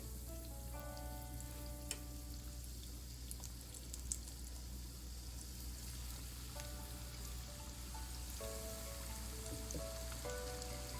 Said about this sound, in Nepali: र यसलाई पनि म अब यसै गरी फ्राई गर्नेछु।